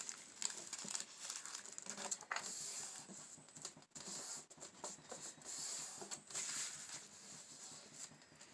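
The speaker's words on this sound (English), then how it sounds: "you're going to fold the tissue paper over" Soft, close crinkling and rustling of tissue paper being folded and pressed down over printed paper for a handmade army candle, continuous and faint with irregular bursts.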